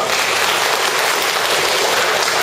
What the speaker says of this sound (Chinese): 给上帝热烈掌声好吗